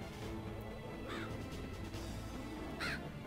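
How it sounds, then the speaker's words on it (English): Killer crows caw in a corn maze in MediEvil, two harsh calls standing out over a constant loud game ambience, no talking. "With killer crows."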